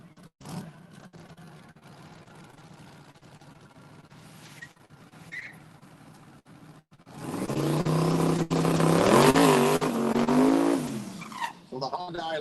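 A drag racing car finishes a pass down the strip at a live evening event. Quieter ambience gives way to a loud engine roar that rises in pitch and then fades near the end.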